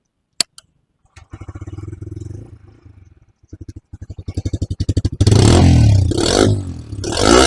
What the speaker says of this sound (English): Let's listen to the engine. How does it sound?